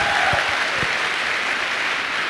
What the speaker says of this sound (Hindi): मैं चाहूँगा उनके लिए एक बार जोरदार तालियां हो